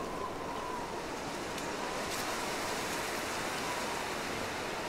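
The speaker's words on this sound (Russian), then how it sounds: "Это ветер так дует?" Wind blowing across the frozen wilderness in The Long Dark survival game, a steady, loud broadband rush like surf that stays even throughout with no voices.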